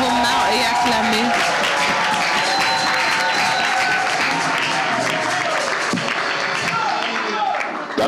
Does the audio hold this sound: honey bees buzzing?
no